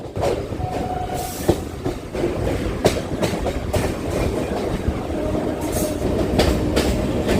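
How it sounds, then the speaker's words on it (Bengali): A Kolkata local train on the Dum Dum to Majerhat line runs slowly toward Park Circus station, with a loud steady rumble from inside and repeated sharp clicks of wheels over rail joints. "আমাদের ট্রেন এবার ধীরে ধীরে এগিয়ে চলেছে পাক সার্কাস স্টেশনের দিকে"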